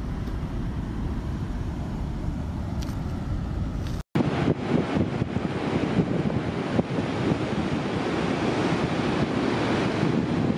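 Ocean waves break on a rocky New Zealand shore in a continuous loud rush of surf, mixed with strong wind buffeting, with a brief dropout partway and no talking.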